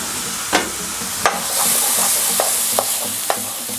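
Vegetables frying in hot oil for chilli con carne, a loud continuous close sizzle punctuated by several clicks and taps of a spoon, with no talking.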